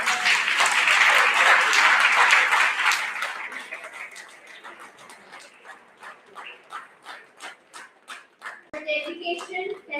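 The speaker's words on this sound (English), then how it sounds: "Let us have one more resounding round of applause for all our winners." Audience applause for award winners at the Fiat Justitia 2026 event of UC Law MLSU, loud and dense at first, then thinning into scattered claps and fading, with a dog barking and voices near the end.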